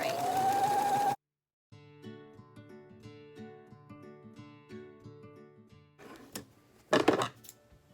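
A sewing machine stitches fabric for an adjustable face mask in a rapid, even run of close mechanical clicks and whirs, preceded by a brief whistling tone and followed by a few louder handling knocks.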